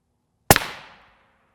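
A single sharp gunshot is fired at an NIJ III++/RF2 armor plate backed by clay, an abrupt loud crack with a brief echo that fades within half a second.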